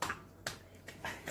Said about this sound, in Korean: 할머니가 박수 칠게.